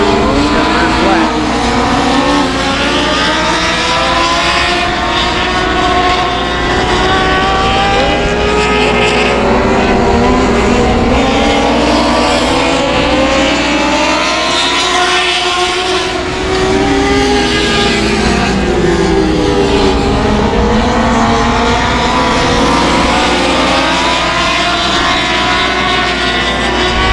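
Race cars roar around a dirt speedway, engines rising and falling as they pass in continuous loud waves, while a commentator talks over the noise throughout.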